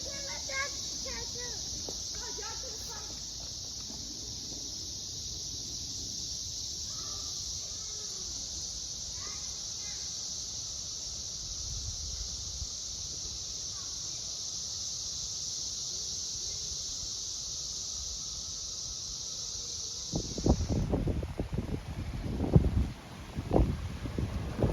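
Cicadas chorusing in Illinois woods make a constant high, steady drone throughout, with a person talking faintly underneath and louder rustling near the end.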